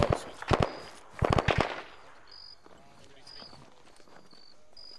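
Gunfire in the military shooter ARMA 3: two tight bursts of sharp, cracking shots ring out early, followed by a quieter tail with faint distant reports under radio-style chatter.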